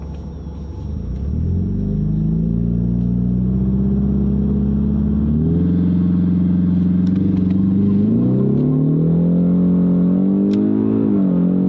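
A Ford Mustang EcoBoost launches hard in second gear with its tires spinning, a loud, close engine drone rising in pitch in steps as revs climb and grip returns, with no talk over it.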